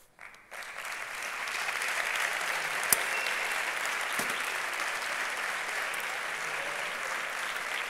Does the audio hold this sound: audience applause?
yes